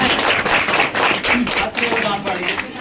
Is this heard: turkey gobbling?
no